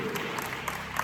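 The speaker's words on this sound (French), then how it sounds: "Applaudissez s'il vous plaît." Brief, faint clapping from an audience at a children's Christmas ceremony in Haiti, a soft continuous patter with a couple of distinct claps near the end.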